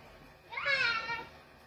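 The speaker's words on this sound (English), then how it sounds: "Oh, the kitty." A house cat gives a single clear, drawn-out meow close by, rising and then falling, in a quiet indoor room where children are playing.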